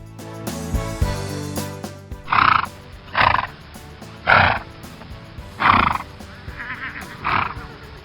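A horse neighs in five loud, separate bursts spaced about a second apart, each a harsh, breathy whinny, following a short stretch of tonal sound at the start.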